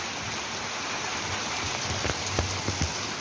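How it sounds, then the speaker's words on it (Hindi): Heavy rain pours steadily outside on an early morning, with strong wind blowing; a dense, continuous hiss of drops with a few louder close splats, no voices. "बाहर पीट के बारिश हो रही है और हवा भी चल रही है तेज तेज"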